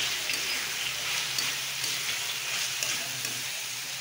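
Tomato sautéing in a pan of spice masala while vatana batata bhaat is cooked, giving a steady close sizzle and crackle of frying throughout with no voices.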